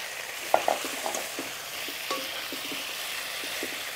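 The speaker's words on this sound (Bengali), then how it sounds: "আদা বাটা, জিরে গুঁড়ো, ধনে গুঁড়ো দিয়ে অল্প একটু ভাজা ভাজা করে পটলটা দিয়ে দেব।" Pointed gourd being fried with ginger paste, cumin and coriander powder in a pan, giving a soft steady sizzle broken by a few sharp scraping stirs, close by with no voices.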